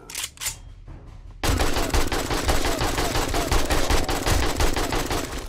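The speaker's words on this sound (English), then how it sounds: "Shoot the AK a little bit at him." Sustained automatic fire from an AK rifle in a video game, a loud and dense run of rapid shots that kicks in after a brief quieter opening and carries on steadily to the end.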